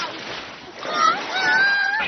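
Water splashes and sloshes briefly while children's voices chatter and squeal nearby.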